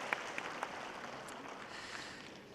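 A crowd at a Gochang County briefing on its designation as a culture city claps for one another, soft and fairly distant, with a few sharper individual claps near the start.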